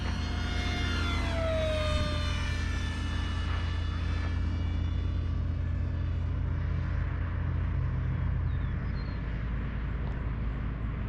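An RC F-18 model jet makes a low pass, its steady turbine whine rising and falling in pitch as it flies by, then fading into a constant background rumble, with no voices.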